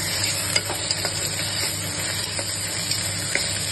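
Potato and ginger garlic paste frying in a pan with carrot for veg pulao, a steady sizzle with occasional scraping stirs of a spoon, close and moderately loud, no voices.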